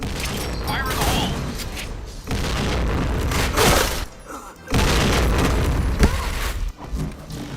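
Loud, dense bursts of booming and gunfire-like crackle from a video game fight, with heavy low-end blasts broken by brief drops in between; no words can be made out.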